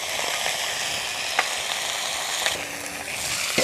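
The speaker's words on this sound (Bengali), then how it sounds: "পটলগুলো ভাজা হতে হতে" Pointed gourd pieces fry in hot oil with a dense, steady sizzle close up, broken by a few brief clicks of stirring.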